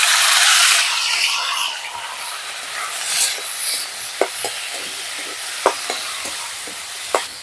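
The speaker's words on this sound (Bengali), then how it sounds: "আলু সেদ্ধ করে নিয়েছি এরকম ছোট ছোট করে কুচিয়ে সেটা দিয়ে দিচ্ছি" Chopped boiled potatoes drop into fried onions in a hot pan, with a loud sizzle at first that settles into a softer frying hiss, broken by several sharp spoon clinks and scrapes toward the end.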